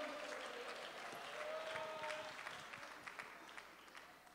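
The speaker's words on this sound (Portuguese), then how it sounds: "Aplauda o Senhor Jesus." A church congregation applauding during worship, a soft, distant wash of many hands clapping that slowly fades, with a faint voice underneath.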